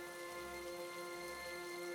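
Rain pours in a cartoon scene as a steady, faint wash of hiss with a few sustained tonal hums underneath, no voices heard.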